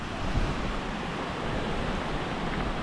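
Sea surf at the shore of Barangay Tarum makes a continuous, even wash of broadband noise with no voices over it.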